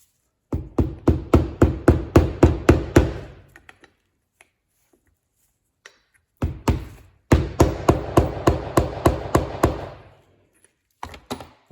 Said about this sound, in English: So all I did is I just got a socket that would fit over the shaft, so it's only touching the seal. Just drive the seal in.